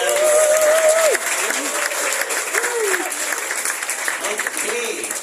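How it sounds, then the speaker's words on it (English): A stand-up comedy night crowd on Koh Phangan applauds, continuous clapping that drops slightly after the first second, with a voice and some whoops or cheers rising over it. "could we have another round of applause for everyone who's here"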